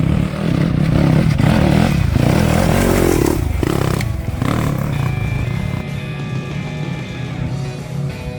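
Yamaha WR250 dirt bike passing on a trail, engine revving loud and near, then fading as it moves away, with some clatter of terrain.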